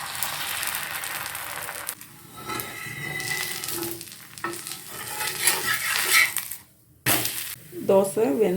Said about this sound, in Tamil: தோசைக்கல்லில் எண்ணெய் தடவிட்டு மாவை சுற்றி ஊற்றணும்.